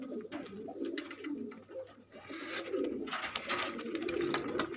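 Gulgasht pigeons in a loft setup give soft, throaty cooing calls, repeated in low rolling phrases at close range, fairly quiet, with light rustling and no talking.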